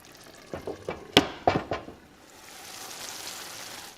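A spoon scrapes and knocks through a pot of poblano tofu stew in a few sharp strokes, then a soft steady simmering hiss takes over, close and clear.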